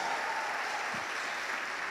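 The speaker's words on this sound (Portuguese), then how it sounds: "Uma salva de palmas a essa mulher de Deus." A church congregation applauds at a family conference, a dense, steady wash of clapping from many hands that stays even and moderately loud throughout.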